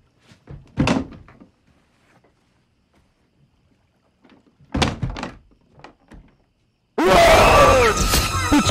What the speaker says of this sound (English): Do you close the closet door?